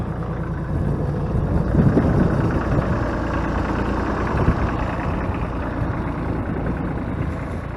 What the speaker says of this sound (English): This is my old propane tractor.